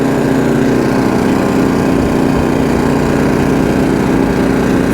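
A Honda HSS724A snowblower engine runs steadily and loudly throughout, a dense continuous drone with no pauses and no talk over it.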